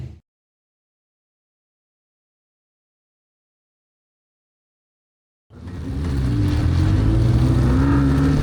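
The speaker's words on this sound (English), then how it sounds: "Ready to get going for the heat race as we roll out of the pits." Legends race cars rolling out of the pits for a heat race, engines starting up loud and close after a long silence, a steady rumbling drone with rising revs building over several seconds.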